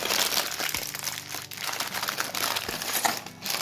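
A plastic parts bag for a toy brick Christmas train set crinkles and crunches close up, with dense irregular rustling that surges and eases over a few seconds, with no voices.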